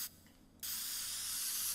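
In the video game Teardown, a spray can lets out a short faint hiss, then a steady, louder spray that holds for about a second before it cuts off.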